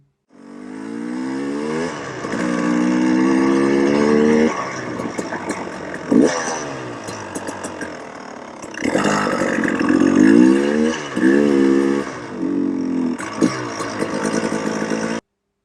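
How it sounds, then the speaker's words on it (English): A motorcycle engine, a 2020 TPI two-stroke running a rich, overfueled map, revs up loudly and close, then stumbles and bogs under throttle before picking up again in uneven surges. "as soon as I started to open the bike up, it started to bog"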